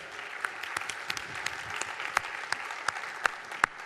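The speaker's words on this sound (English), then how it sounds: "that deserves an applause" A church congregation applauds at a 50th anniversary announcement, steady soft clapping with a few sharper individual claps standing out, moderately distant and alone without talk.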